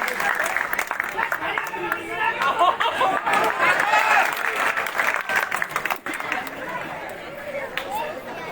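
An audience claps for Manoj Nyangli at a public gathering. The applause is loud and sustained, with crowd chatter and cheering mixed in. It thins briefly near the end before picking up again.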